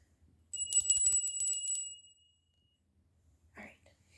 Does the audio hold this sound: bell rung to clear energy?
yes